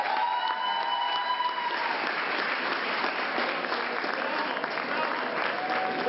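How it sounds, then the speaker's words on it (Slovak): Sustained applause from a pageant audience greeting a guest titleholder on stage, dense steady clapping with some cheering, with a host's voice heard over it. "Ešte raz jeden veľký potlesk."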